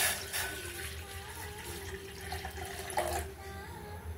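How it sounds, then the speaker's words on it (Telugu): Water poured from a small metal pot for ragi porridge, a continuous close trickling and splashing stream that stays fairly steady throughout the short moment, with no voices. "ఈ చెంబుతోటే కొద్దిగా నీళ్లు పోస్తున్నాను"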